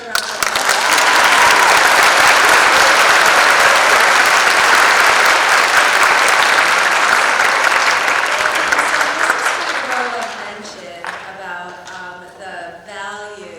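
An audience at a winter band concert applauds steadily and loudly for about ten seconds. The clapping then thins out and fades, and a voice begins speaking as it dies down.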